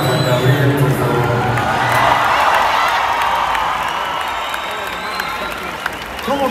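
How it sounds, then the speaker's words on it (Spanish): An audience at a Pepe Aguilar palenque show in Querétaro applauds and cheers for Juan Gabriel, a dense swell of clapping and shouts that builds then slowly fades, with a voice over it at the start. "Un aplauso para Juan Gabriel, por favor."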